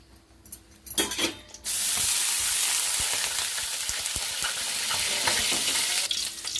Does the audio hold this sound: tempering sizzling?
yes